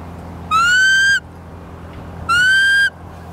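Two clear, shrill blasts from a sheepdog whistle, each rising slightly in pitch and lasting just over half a second, separated by a short pause, sounding close and loud against a quiet room.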